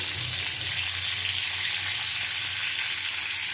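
Meat frying in a pan with salt and turmeric, giving a continuous, dense hiss of sizzling oil that stays even and close throughout, with no voices.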